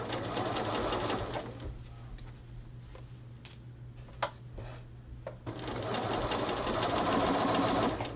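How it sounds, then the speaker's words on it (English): Sewing machine basting a shirt collar to its collar band, running in two steady stitching bursts at the start and end with a quieter pause of small ticks and clicks between. "I'm just going to simply baste my collar to the collar band"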